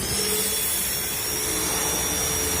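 Oil change machine pumping oil into a car engine in a workshop: a loud, steady motorized whine with a continuous hiss and hum, unbroken and close throughout.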